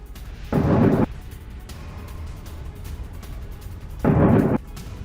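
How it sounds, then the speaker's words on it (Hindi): Two heavy booming blasts from Iranian missile strikes in Bahrain, each a short, loud burst about a second long, separated by a few seconds of low background rumble. "ईरान की मिसाइल गिरने के बाद धमाके हुए हैं"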